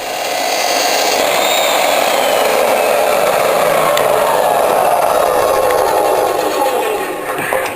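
A power saw cuts through a metal pipe with a bit of weld on it, a steady close grinding rasp that runs without a break for several seconds.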